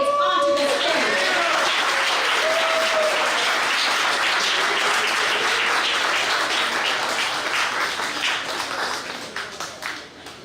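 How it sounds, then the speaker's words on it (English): A large audience applauds warmly at an NFL honoree event, with loud, dense clapping that holds steady and then tapers off as it ends. "with a warm, very loud applause, let us honor Mr. Keir Spitz onto the stage"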